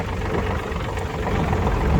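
A Yanmar RS27 27-horsepower mini tractor engine runs steadily while the tractor drives along, a close, continuous low rumble with an even, unbroken drone and no talking.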